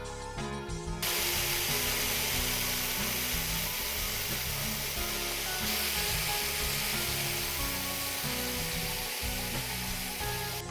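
A thin strip of copper is cut for a repair on a Marshall JCM 2000 TSL122 amplifier, giving a steady grinding, buzzing mechanical noise with small rhythmic shifts, close and continuous.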